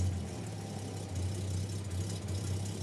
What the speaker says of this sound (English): The engine coughed to life